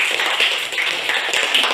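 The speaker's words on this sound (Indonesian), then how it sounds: "Kita tepuk tangan." A classroom of students claps together, producing a dense, continuous patter of many hands at close range that swells and dips slightly over a couple of seconds.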